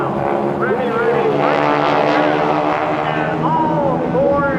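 Propeller aerobatic airplanes of the Aeroshell Aerobatic Team flying together at the 2013 Dayton Airshow, a loud, steady engine drone with shifting pitch sweeps as the four aircraft separate, continuous throughout.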